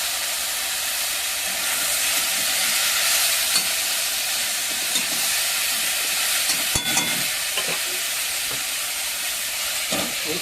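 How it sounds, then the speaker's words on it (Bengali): Pumpkin frying in a wok with oil, onion and green chilli: a steady, fairly quiet hiss of sizzling oil runs throughout, broken by scattered clicks and scrapes of a spatula stirring the pieces. "এবারে কড়াইতে একটু তেল, পেঁয়াজ, কাঁচা লঙ্কা দিয়ে কুমড়ো ভাজাটা বসিয়ে দেবো"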